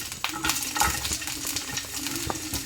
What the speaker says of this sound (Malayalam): നനഞ്ഞ കറിവേപ്പില അതിനെ കൊണ്ട് കഴുകിയത് കൊണ്ടാണ് നൈസായിട്ട് അരിഞ്ഞ നമ്മളെ ഉള്ളി കൂടി നമുക്ക് ആദ്യം ഇട്ട് കൊടുക്കാം